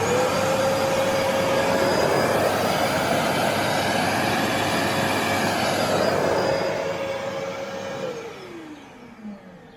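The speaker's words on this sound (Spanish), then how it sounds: "A ver con la aspiradora esta de 1000 vatios si puede arrancarlo o no." A steady, loud 1000-watt vacuum cleaner whine drones for several seconds, then winds down as the motor slows and fades out near the end.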